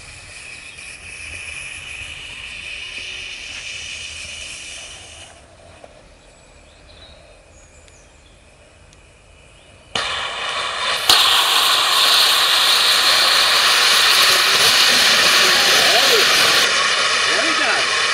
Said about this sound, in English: we'll just let that burn into the chorizo, and then we'll start the oxygen flowing through